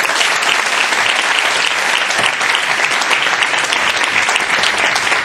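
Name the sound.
audience applause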